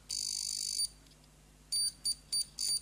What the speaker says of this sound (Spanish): no tenemos un polímetro. Tenemos un zumbador intermitente.